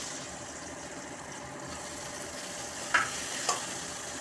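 Capsicum fries in hot oil with salt, a steady close sizzle that runs throughout, broken near the end by two light clinks of a stirring spoon against the pan.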